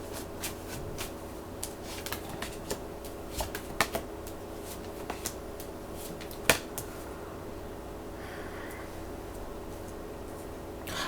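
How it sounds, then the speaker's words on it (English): Tarot cards are shuffled in a soft, continuous riffling patter with occasional sharper snaps, faint and close against a steady background hum. "Give me 4 cards."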